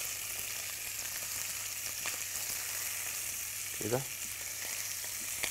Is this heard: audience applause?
no